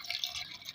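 Water trickles and splashes steadily into a small drinking pot for chicks, a short close, light pouring sound with no voices.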